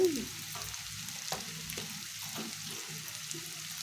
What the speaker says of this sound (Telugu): ఆయిల్ హీట్ అయ్యాక కట్ చేసి పెట్టుకున్నటువంటి కాకరకాయ ముక్కల్ని వేయాలి